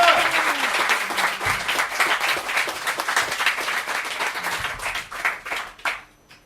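An audience at an inauguration evening breaks into sustained applause, dense clapping that holds steady for several seconds before thinning out and stopping near the end.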